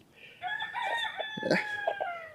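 Rooster crowing with hens clucking on a Fayoumi chicken farm, a long bright crow running through most of the stretch over steady nearby clucks, close and moderately loud.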